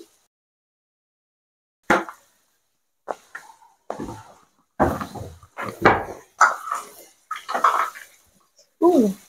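A utensil scrapes and knocks in a cooking pot as tomatoes are stirred, in irregular close bursts separated by short silences.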